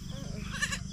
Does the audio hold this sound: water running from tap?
no